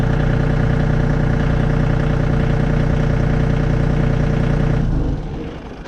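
A John Deere 3025E compact tractor with a 25 horsepower motor idles close by, a loud, steady diesel rumble at 1200 RPM that holds evenly for several seconds before suddenly dropping away and fading.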